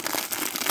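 Plastic bag holding the cape of a 1:18 scale Joytoy Warhammer 40k Black Templars action figure, crinkling and rustling continuously in close, brisk handling for under a second.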